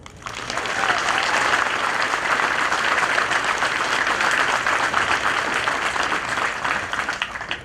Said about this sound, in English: Please join me in a round of applause for these soldiers.